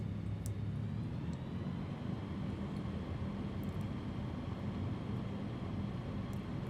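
Steady drone of a Rans S6 Coyote II amphibian light aircraft engine in the MSFS 2024 flight simulator, continuous and even throughout with power pulled back, broad constant hum without talk.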